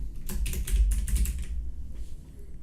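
Quick bursts of keystrokes on a computer keyboard, close and fairly loud, tapping in an uneven rhythm for about two seconds and then trailing off into faint clicks, with no one speaking.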